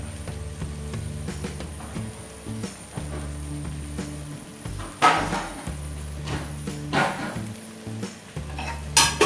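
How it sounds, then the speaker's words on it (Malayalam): Spicy mutton roast being stirred with coriander leaves in a pan, a steady scraping and light sizzle with occasional louder clanks of the spoon against the metal. "പിന്നെ മല്ലിയില നല്ലവണ്ണം ഇളക്കി യോജിപ്പിക്കാം"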